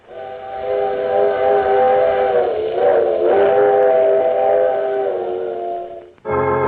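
Steam train whistle in a 1940s radio drama, a loud sustained multi-tone wail held for several seconds over rumbling rail noise, then cut off abruptly before the rumble of the train returns.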